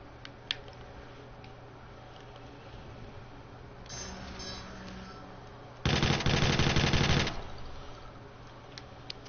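Video game gunfire: a faint early shot, then a loud, sustained burst of rapid automatic fire lasting over a second, against quiet background noise.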